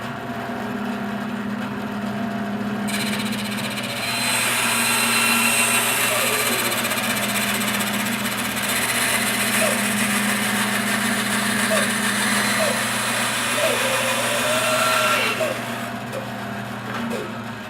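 A power tool cuts an arrow tube square against a guide, running as a steady whining motor that jumps louder for about twelve seconds of cutting before dropping back to a lower hum.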